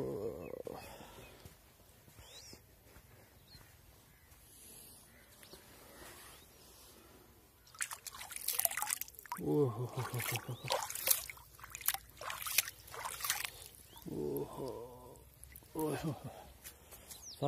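A hand dipping into cold water, with soft trickling and sloshing bursts that come and go over a quiet outdoor background.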